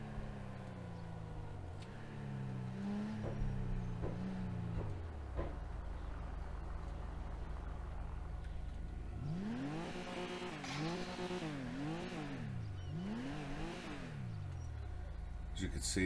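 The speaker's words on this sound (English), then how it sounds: "Oh, that turbo sounds so good." A turbocharged car in GTA 5 revs and accelerates, its engine note rising and falling in repeated sweeping pulls with a steady low rumble between, loud and close throughout.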